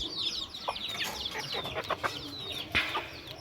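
Hens and a small rooster on a small farm give repeated soft clucks and short calls, close by and overlapping, with a few sharper squawks.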